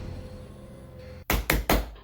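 Three heavy, loud knocks pound on a door in quick succession, ringing out sharply against an otherwise quiet room.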